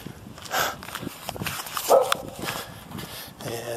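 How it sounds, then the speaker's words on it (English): A dog barks on a street in Acapulco, Mexico, a few short barks at a middle distance mixed into outdoor street noise. "Another dog."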